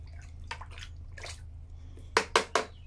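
Water in a bucket being stirred with liquid fertilizer for a vegetable garden: soft sloshing under a low hum, followed by three louder close splashes near the end.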